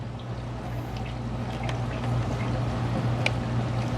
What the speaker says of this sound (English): Kick the heater on, the little red light indicator came on saying that it's got power, and our fan is going.